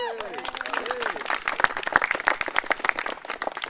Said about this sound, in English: give yourselves a round of applause because you do a great job